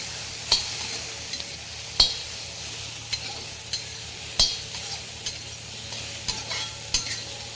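Pasta sauce with coriander powder sizzles softly in mustard oil while a utensil stirs it, giving light scraping clicks and taps against the pan over a steady frying hiss, with no talking.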